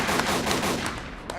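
Rapid bursts of gunfire, loud and close, firing in quick repeated volleys for a little over a second.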